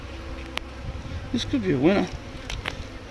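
Honey bees buzz around a hive frame during a beekeeping lesson, a close, wavering drone with a few louder passes, while a person speaks briefly over it.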